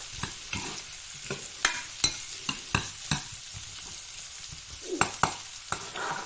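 Onion stir-fried in a pan for a glass noodle dish, with a steady sizzle under sharp, irregular scrapes and clacks of a spatula against the pan, close up and without talk.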